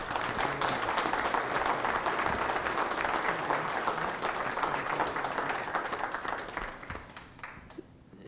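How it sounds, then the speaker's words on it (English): An audience at a board of directors meeting applauds a retiring board member, a moderately loud, sustained round of clapping that gradually thins and fades toward the end. "I think we owe you a round of applause and a special thank you for all you've done"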